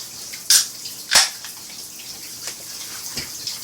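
Shower water running, with intermittent splashes and sharp spattering bursts over a steady hiss, close by and fairly loud.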